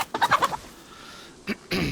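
A chicken in DayZ gives a quick burst of several close clucks, then after a pause a short thump and a rustling swish follow.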